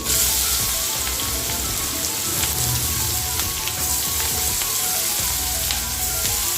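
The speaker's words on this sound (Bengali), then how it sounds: "তো আমি এখানে পেঁয়াজ কুচিটাও দিয়ে দেব" Chopped onion frying in a pan for a thin Bengali fish curry with data stalks, potato and radish: a steady, loud crackling sizzle runs throughout, with occasional stirring scrapes and pops.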